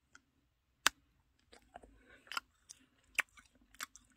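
Someone bites into and chews a Starbucks Year of the Dragon chocolate cake with a printed coating, producing sparse, close, crisp crunches and clicks spaced irregularly over quiet pauses.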